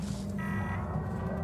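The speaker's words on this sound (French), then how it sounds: "En le débranchant, ça va déclencher l'alarme forcément." Base alarm in the space game Elite Dangerous Odyssey, a steady electronic alarm tone holding over a low droning game ambience, continuous and moderately loud throughout.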